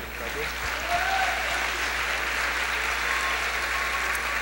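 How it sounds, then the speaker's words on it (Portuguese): A congregation at a church festival applauds in a sustained, even wash of clapping with a low hum underneath and faint voices mixed in. "Vamos aplaudir o Senhor."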